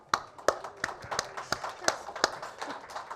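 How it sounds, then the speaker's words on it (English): A small meetup audience gives the speakers a round of applause, heard as sparse, fairly regular individual claps spaced about a third of a second apart, close and modest in volume, with faint murmuring underneath. "Let's give the speakers another round of applause."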